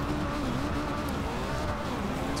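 A rear-wheel-drive Honda Civic CRX driven in Forza Horizon 2 in the rain gives a steady, loud engine drone whose pitch wavers up and down. It runs continuously with no talking.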